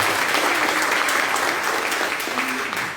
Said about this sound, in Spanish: Déjale un aplauso